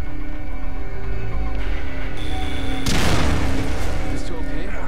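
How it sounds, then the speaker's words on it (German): A sudden loud bomb explosion bursts midway through a dense, busy soundscape with music and effects in the video game The Evil Within, its blast sweeping across and lingering. "Vor mir ist gerade eine Bombe explodiert."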